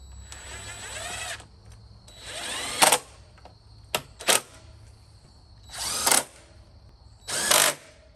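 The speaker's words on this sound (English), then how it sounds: "Now I'm gonna put the screws in here." A power drill drives screws into a MadStad windshield on a Harley-Davidson Pan America motorcycle, in several separate whirring bursts of rising pitch with brief sharp ratcheting spurts between them and quiet pauses in between, heard up close.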